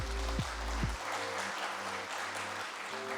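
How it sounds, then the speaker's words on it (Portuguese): An audience at an engineering event applauds as an engineer is welcomed on stage, a steady dense clapping over a low musical tone, with a brief sweep of sound at the start. "Uma salva de palmas, pessoal."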